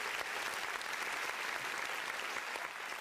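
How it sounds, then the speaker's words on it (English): A workshop audience gives a big round of applause, dense and even clapping that holds steady and fairly soft throughout with no one speaking. "So please big round of applause once again to Sister Dina."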